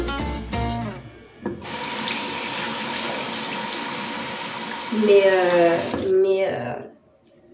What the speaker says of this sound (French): On va le rincer tout de suite.